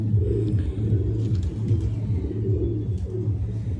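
Pigeons coo nearby in a continuous soft, low, throaty murmur, the repeated calls overlapping with faint background noise.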